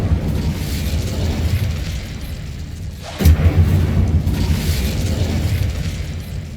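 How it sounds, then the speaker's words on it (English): In the Hogwarts Legacy video game an Incendio fire spell erupts as a sudden booming burst midway through, flaring over a continuous low rumble that carries on after the blast. "Incendio!"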